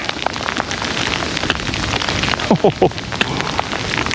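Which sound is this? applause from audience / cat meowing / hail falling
hail falling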